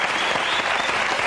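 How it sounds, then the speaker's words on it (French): A French television studio audience claps steadily in a dense, even burst of applause, close and loud, with no talking over it. "Vous pouvez aussi les applaudir"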